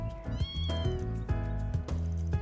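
A kitten in the video game Trails Through Daybreak meows several times in quick succession, close and clear, over a soft tonal backing.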